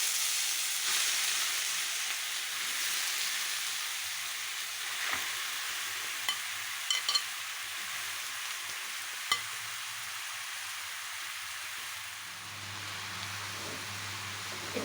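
Pumpkin pieces fry in ghee with cardamom, making a steady close hiss and sizzle with a few scraping stirs and clinks, then a low hum near the end.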